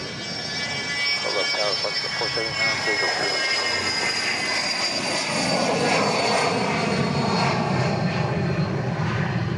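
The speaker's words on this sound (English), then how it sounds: "BizJet ready to hop off here." A business jet powers up for takeoff at Dallas Love Field after dark, its engine roaring steadily and loudly throughout, layered with a high whine and some rumbling, while a voice talks over it.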